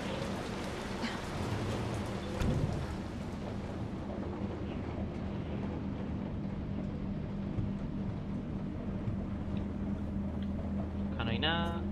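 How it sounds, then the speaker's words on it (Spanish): Rain pours steadily in the Resident Evil 3 Remake game with a low rolling rumble, a brief louder burst early on and a rising tonal sweep at the end; a voice speaks over part of it. "Está lloviendo"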